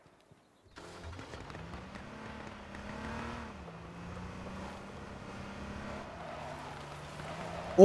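A car engine in the video game H1Z1 drones steadily at moderate distance, its pitch rising and falling as the vehicle drives, ending in a sudden loud burst.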